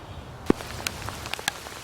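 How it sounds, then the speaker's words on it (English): Rain beginning to fall outdoors by a vegetable garden and tent, heard as sparse, scattered drops tapping a surface over a soft background hiss, light and intermittent. "Well, it did start raining."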